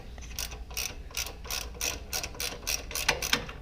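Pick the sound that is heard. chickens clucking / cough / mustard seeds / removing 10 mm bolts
removing 10 mm bolts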